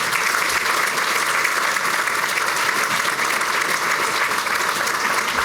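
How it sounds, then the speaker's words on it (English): A large audience applauds its sponsors at a City Club event, a dense, steady wash of clapping that stays loud and even throughout with no talk over it. "Can we have a round of applause for all of our sponsors?"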